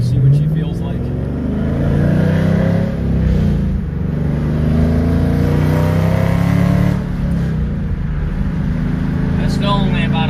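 A warmed-up 2014 Camaro SS 1LE V8 drones and swells on light throttle while driving, heard loud from inside the cabin with the pitch rising and falling, and people talking over it.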